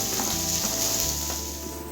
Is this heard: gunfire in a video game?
no